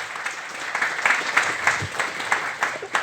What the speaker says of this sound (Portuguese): gostava de pedir uma salva de palmas ao Reginaldo e a outros angolanos que inspiram outros angolanos